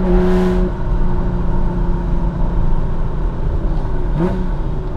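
A loud 5.2-litre V12 engine of a classic sports car revs and roars continuously, with pitch rising and falling as the throttle changes, heard from close up inside the vehicle.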